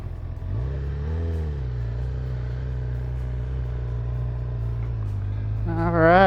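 A Honda CB1000R Black Edition motorcycle in sport mode holds a steady, close engine drone, then revs up sharply as it pulls away at the end.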